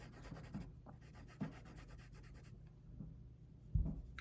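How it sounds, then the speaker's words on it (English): A dry erase marker rubs over permanent marker lettering on a Turtles in Time game cartridge, giving soft, quiet scratchy strokes with a few faint taps and no voices. "So go again with your dry erase marker."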